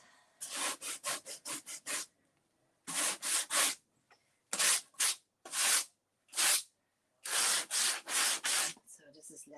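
Hand sanding an old file cabinet: rhythmic bursts of rubbing strokes in quick clusters separated by short pauses, close and fairly loud, with no voices.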